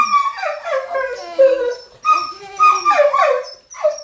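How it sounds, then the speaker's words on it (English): A dog whimpers and howls in drawn-out, rising and falling cries, close and fairly loud, in two long bursts with short pauses. "Oh, the dogs are going to go barking right now."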